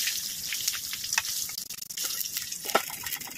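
Chicken wings for butter garlic wings fry in hot oil with a steady, bright sizzle and crackle, punctuated by small pops and occasional stirring.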